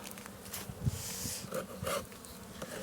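Honey bees buzz close by during a spring hive inspection, a soft continuous drone with brief louder swells as individual bees pass near.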